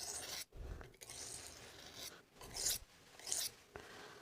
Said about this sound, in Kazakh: Негізі жүзіне қарсы да қайралады былай.